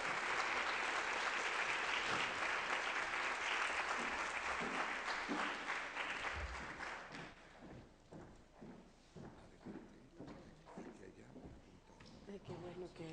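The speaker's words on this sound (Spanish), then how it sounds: "Démosle un fuerte aplauso a la senadora Cristina Díaz Salazar." Strong applause greets a senator at a Nuevo León event on a women's business empowerment law attended by lawyers' associations, loud for several seconds before thinning into scattered claps and quieter room noise.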